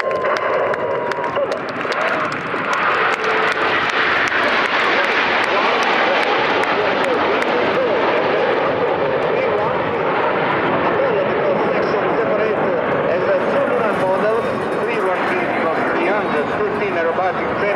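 Frecce Tricolori jet aircraft roar past at an airshow, a loud, continuous engine rush that swells and holds over the whole stretch while an announcer narrates over it.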